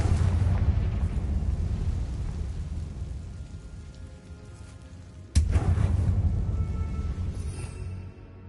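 A Confringo fire spell blasting in the video game Hogwarts Legacy: a loud roaring rumble that fades, then a sharp explosive crack followed by another heavy, rolling burst that trails off.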